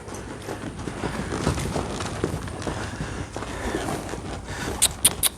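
Hooves of a young horse being ridden for the first time clop and scuff on the ground while it walks near cattle, a steady near rhythm under outdoor noise, with a few sharp knocks at the end.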